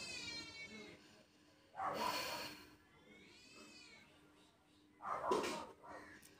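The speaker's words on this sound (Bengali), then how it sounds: "বিড়ালও কাঁদছে ওদিকে ঝগড়া করছে দুইটা বিড়ালে" Cats yowl and cry in two drawn-out bursts, faint and somewhat distant, over a quiet background.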